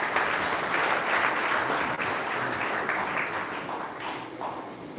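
A big round of applause from the crowd at a community security and safety team launch, sustained dense clapping that holds steady and tapers a little near the end.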